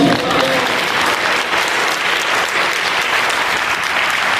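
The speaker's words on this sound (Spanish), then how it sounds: "Denle un aplauso al Señor." Dense, loud applause from a church congregation honoring the Lord during a sermon, steady broadband clapping sustained for several seconds after a brief spoken voice at the start.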